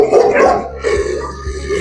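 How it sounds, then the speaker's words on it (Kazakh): Dogs bark at a stray dog shelter holding close to a thousand animals, loud and close, with a couple of short bursts over a dense kennel din. "Bu yerде bir 1000га жуық ит бар қазір."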